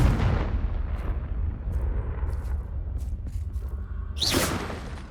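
Confringo fire spell in the Hogwarts Legacy video game: a heavy booming blast with a rumbling low tail and scattered crackles, then a bright whooshing burst near the end.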